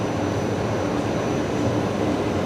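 A BAe 146 airliner moves across the apron at Brisbane Airport, producing a continuous, fairly loud rushing engine roar with a low rumble that stays even throughout and has no speech over it.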